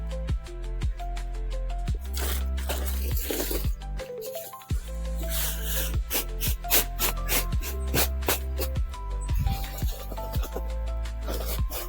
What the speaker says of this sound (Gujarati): પહેલાં આપણે એને નીચે ઠલવીને મિક્સ કરી દઈશું